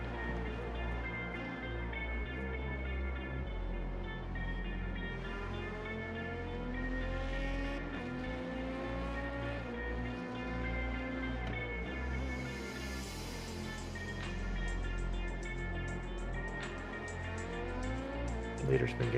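An LMP2 prototype race car's engine drones loud and close in iRacing at the Daytona 24 Hours, harmonics rising and falling through gear changes and revs, with a driver talking over it.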